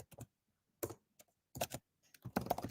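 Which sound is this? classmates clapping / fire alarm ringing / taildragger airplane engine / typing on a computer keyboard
typing on a computer keyboard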